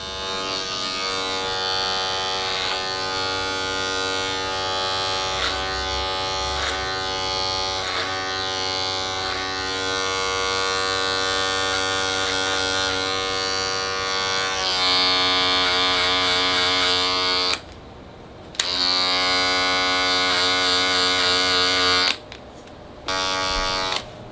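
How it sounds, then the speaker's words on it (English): Electric hair clippers buzz steadily through a barber's clipper-over-comb haircut, a close, continuous motor drone with slight shifts in pitch as the blades meet hair, briefly cutting out twice near the end. "you'll see how you create the shape using clipper over comb"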